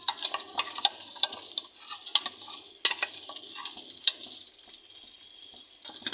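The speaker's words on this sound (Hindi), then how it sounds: "अब हम इसको फ्राई पैन में फ्राई करेंगे।" Noodles fry in hot oil in a frying pan over a high flame, a steady bright sizzle broken by repeated crackling pops and the scrape of stirring, close and continuous with no voices.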